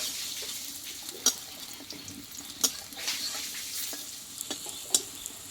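Small masoor dal fritters frying in oil, a continuous soft sizzle with occasional sharp clicks and taps of a utensil against the pan.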